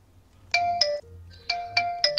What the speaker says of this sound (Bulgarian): сега няма да престанат да ми звъни